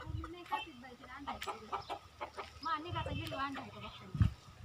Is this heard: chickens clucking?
yes